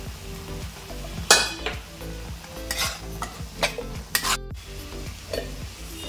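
Burrito bowl filling with taco seasoning, oregano and chili flakes sautéing in a pan, a soft sizzle under repeated scraping strokes of a spoon and occasional metallic clinks against the pan, close and without voices.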